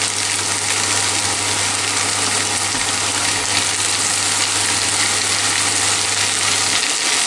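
Zucchini fry with potatoes in a pan, giving a loud, steady, dense sizzle that continues unbroken throughout, close up and with no talking.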